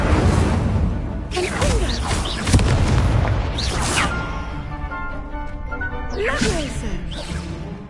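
Spell-casting effects such as Incendio in the Hogwarts Legacy video game: repeated whooshing blasts and booms firing in quick bursts, loud and close, with a voice shouting over them.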